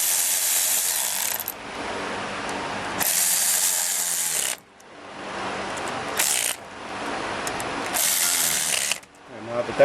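Ratchet tightening bolts into an aluminum water pump housing on a 1994-96 Impala SS, several bursts of rapid close clicking separated by short pauses, loud and alone.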